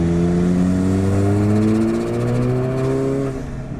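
Alfa Romeo 4C with a 1.7-liter turbocharged four-cylinder and dual-clutch gearbox, engine revving steadily and loudly up close with rising tones, then easing off near the end, suggesting turbo spool and a blow-off release.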